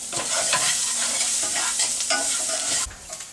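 Food frying in a pan while being stirred, with tomatoes about to go in, gives a steady close sizzle broken by scraping stirs. The sizzle drops away sharply near the end.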